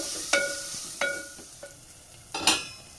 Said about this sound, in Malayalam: തക്കാളിയും പച്ചമുളകും ഇഞ്ചിയും വെളുത്തുള്ളിയും ഒക്കെ ഒന്ന് വഴന്ന് സവാളയുടെ യോജിച്ച് വരണം അതുവരെ നമുക്ക് വഴറ്റിയെടുക്കാം